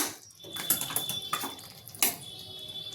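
A spoon scraping and clinking in a pan while capsicum and potato curry is stirred, with several short metallic taps and scrapes at close range over quiet kitchen background.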